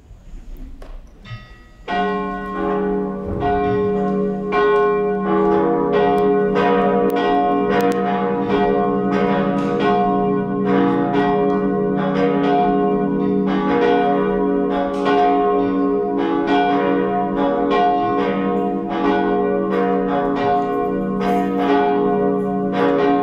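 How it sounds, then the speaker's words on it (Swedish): Church bells peal from a cathedral before a Sunday high mass, several bells swinging together in a dense, continuous ringing that stays loud and steady throughout, with no talk over them. "Låt oss nu lyssna till klockringningen."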